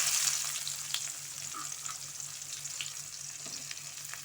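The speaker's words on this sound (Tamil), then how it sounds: "இப்போ நம்ம கடுகு, உளுந்தம்பருப்பு, ஜீரகம் சேர்த்துக்கலாம். நல்லா பொரியட்டும்." Mustard seeds, urad dal and cumin fry in hot oil for a moong dal sprouts dish, giving a steady, close sizzle with scattered small crackles and pops throughout, no talking.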